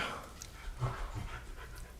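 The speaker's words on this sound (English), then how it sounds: "I apologize for that ill-behaved animal barking in the background." A dog in the background gives soft panting and whimpering sounds, faint and brief, with a low bark-like huff.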